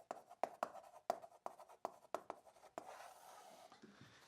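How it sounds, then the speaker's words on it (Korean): A lecturer in an accounting class writes notes by hand, and a rhythmic series of sharp marker or chalk strokes taps out in quick bursts. The strokes are close and clear, then give way to a softer scratchy stretch at the end. "여기다 써볼게요."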